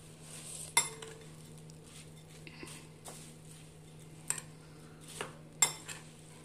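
Bhel puri being tossed in a bowl with a spoon, giving a few sparse clinks and scrapes of metal against the dish over a low steady background hum, with no talking.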